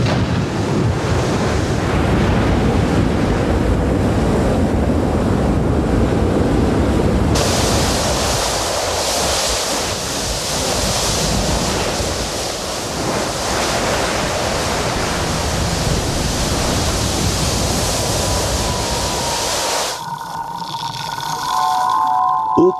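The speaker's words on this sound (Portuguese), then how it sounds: "a costa se torna um caldeirão fervente quando o fogo e a água se encontram" Lava pours into the ocean on a volcanic coast, turning the surf into a boiling cauldron: a loud, continuous roaring rush of churning water with heavy wind noise, changing texture partway through and dropping away near the end.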